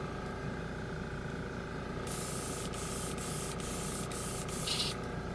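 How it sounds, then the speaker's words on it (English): Compressor-powered paint sprayer spraying paint onto cards: a steady close hiss over a constant compressor hum, with a few brief pauses in the spray near the end. "It doesn't seem to spray too great on these cards."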